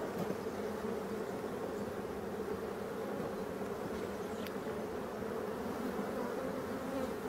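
Honey bees swarm-buzzing around an open beehive, a dense continuous hum close by and steady throughout, with individual bees zipping past now and then.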